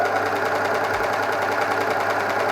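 A sewing machine runs continuously, stitching fabric pieces for a scarf top with a steady, even mechanical whir and no pauses.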